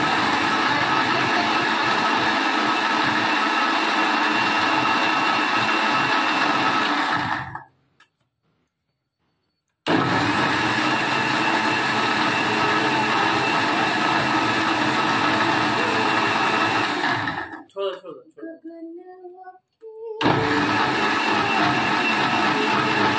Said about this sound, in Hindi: रेलवे क्रॉसिंग बंद था दो दो ट्रेनें निकली हैं साथ में